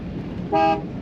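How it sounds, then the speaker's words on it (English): Horn of a red and white 1957 Ford Thunderbird convertible with hard top, factory original, giving one loud, steady toot of about a quarter second over quiet background. "Factory horn, nice and loud."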